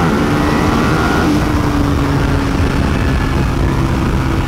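A 2023 Buell Hammerhead 1190 motorcycle engine at speed on a race track, a loud continuous drone with slight pitch shifts as the bike pulls, no voices.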